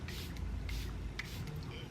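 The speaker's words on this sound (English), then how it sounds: "gonna set my face with the Say City Set setting spray again." Makeup setting spray mists onto a face in a few short, soft hissing bursts close by over a quiet background.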